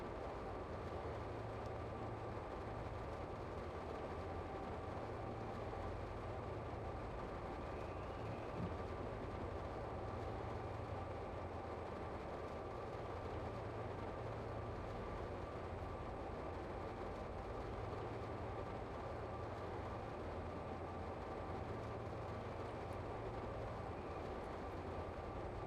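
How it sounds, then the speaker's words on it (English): An ICE high-speed train approaches at a station, a faint, steady low rumble and hum that stays distant and even throughout with no sharp peaks. "There's the train we're waiting for"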